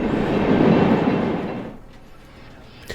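An IC freight train led by a repainted SD70 with a Death Star trailing rumbles past loudly near Centralia, Illinois, its roar fading away within about two seconds.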